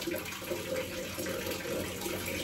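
Tap water runs steadily into a sink during face washing, a constant close rushing flow with no voices.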